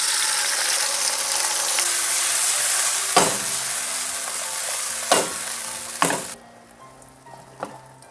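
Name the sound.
porcini mushrooms sautéing in olive oil in a pot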